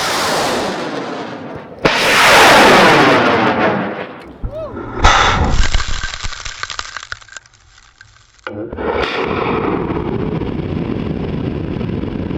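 A model rocket launches off the pad with a sharp ignition crack and a loud roaring whoosh that swells and fades, followed by a sustained rushing burn and noisy outdoor wind.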